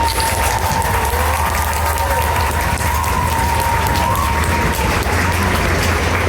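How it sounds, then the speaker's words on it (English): Crowd applause for the judges at a Comic Con Stockholm cosplay competition awards ceremony, continuous loud clapping over a low steady hum, with a faint tone running beneath. "please give another round of applause also for our heroic judges"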